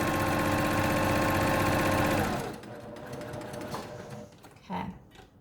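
Sewing machine stitching a fabric face mask, a fast rapid mechanical chatter for about two seconds before it stops, followed by quieter handling noises and a soft clunk.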